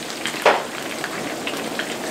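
Beef chorizo frying slowly in a pan with seasoning, a soft continuous sizzle and crackle with one sharper spatter early on.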